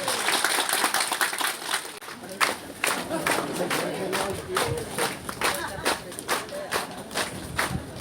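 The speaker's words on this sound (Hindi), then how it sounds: "जोरदार ताली" Audience applause at a rural agricultural policy launch event, a steady patter of many hands clapping with some louder claps, voices audible around it.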